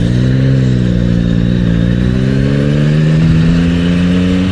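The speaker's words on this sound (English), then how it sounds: "Just throw a rev bomb down there." A motorcycle engine revs hard and close, a loud steady drone climbing in pitch over a few seconds with no talk.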